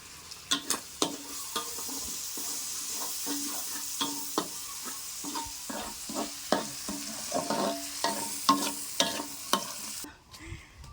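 Korat-style rice noodles stir-fried with dark soy sauce in an open kitchen: a steady sizzle punctuated by sharp, rhythmic spatula scrapes and clanks against the pan, ending abruptly.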